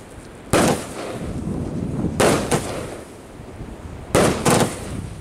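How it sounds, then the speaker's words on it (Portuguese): Three booming shots from an Independence Day firework battery, each a sharp launch thump followed quickly by a second burst crack, spaced about two seconds apart outdoors at moderate distance. "Faz um grande impacto ao sair do tubo e um impacto maior ainda a arrebentar!"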